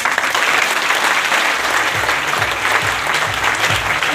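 Large audience at a business motivational gathering claps loudly for the guru, a thick, continuous roar of applause with a low rhythmic thumping underneath from about halfway on.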